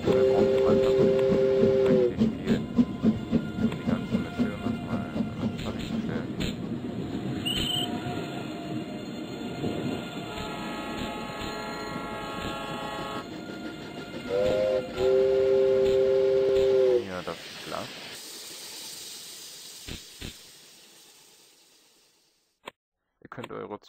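Trains in the video game Train Station run along with rumbling wheels and several high, steady squealing tones that come and go, fairly loud at first, then thinning out and fading to near silence with a few clicks at the end.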